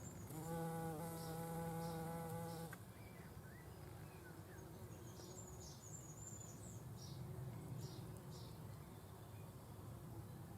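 Common carder bumblebees buzz in numbers over flowering bush vetch in a spring garden, a steady close drone with wingbeat hum and short rising passes, birdsong faint in the background.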